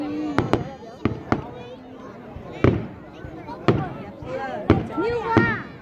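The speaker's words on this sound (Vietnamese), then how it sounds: "Thế mấy người là pháo hoa. Bắn cho sáng lên, làm sáng lên." Fireworks bursting at the 2018 Phật Tích display: a series of sharp, loud booms and crackles spaced irregularly, with people talking throughout.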